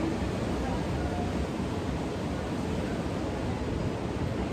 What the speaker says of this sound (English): You may hear the crashing waves behind me.